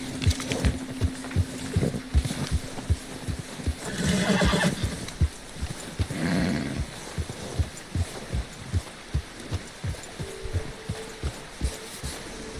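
Arthur Morgan's horse, a mare in a snowy outdoor scene in a video game, whinnies and snorts up close, with soft hoof steps and a steady low thumping heartbeat-like pulse running throughout.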